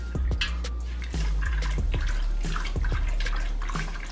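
A wig swished and stirred by hand in a container of watercolor dye water, giving sloshing and dripping splashes with several distinct watery hits over a steady low rumble, close up with no speech.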